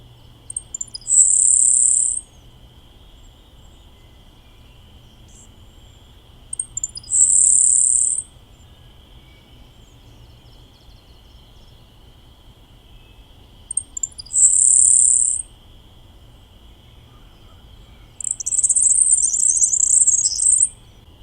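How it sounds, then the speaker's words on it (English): A grasshopper sparrow gives four thin, high insect-like buzzy songs, spaced several seconds apart, clear and fairly close against a quiet background with faint steady hum. "So a great example of that is a grasshopper sparrow."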